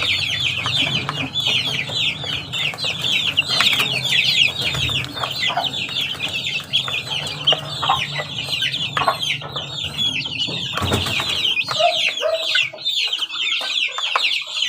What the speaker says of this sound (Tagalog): pag maganang kumain yung ating mga ganitong sisiw